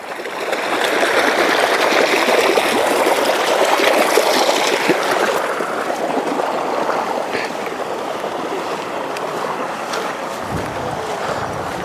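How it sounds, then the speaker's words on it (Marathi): Water flowing steadily on Raireshwar plateau, a broad continuous rushing wash with some wind noise, close and loud, without a break throughout. "हां कसं वाहतंय पाणी."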